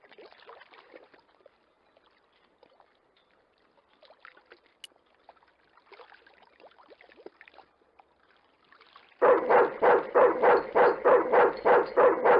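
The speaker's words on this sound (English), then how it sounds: "Just remember, he's a trained attack dog." A trained attack dog in the Broken Sword II adventure game barks in a fast, loud burst of about a dozen rhythmic barks, after a stretch of faint scuffling and rustling.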